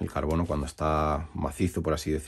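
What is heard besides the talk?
No everyday noise stands out behind the speech.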